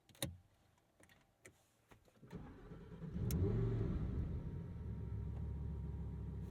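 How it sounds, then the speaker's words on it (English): After a few clicks and a starter whirr, a Lamborghini Huracan Sterrato V10 fires up with a loud flaring bark, then settles into a deep, steady idle rumble close by. "There's that V10."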